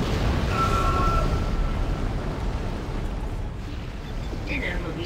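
A hallway ablaze in the Dead Space video game gives off a steady, dense roar of burning flames that fills the whole stretch, loud and continuous with no breaks.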